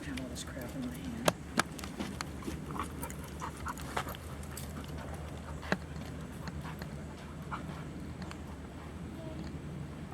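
A dog in e-collar obedience training pants softly and rhythmically outdoors, faint and steady, with scattered clicks and footsteps and people talking over it.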